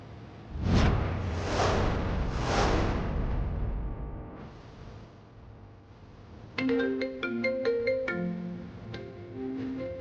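A phone rings through an unanswered call in a Telugu TV serial scene: a bright, repeating electronic ringtone pattern enters after a few soft whooshes and keeps sounding alone without pickup.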